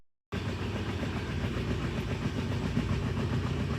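A passenger train on the Vizag to Varanasi route runs steadily, a close, continuous rumble with rhythmic clatter from the carriages that starts abruptly after a brief silence and carries on without talk.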